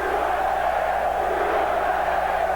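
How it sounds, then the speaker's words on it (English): Boxing crowd in an arena in Reno, Nevada chanting "USA" during a US–Cuba amateur dual match, a dense, steady roar of many voices filling the hall at high volume throughout. "Crowd in Reno, Nevada chanting USA as the Cubans with a 7-4 advantage in this dual competition."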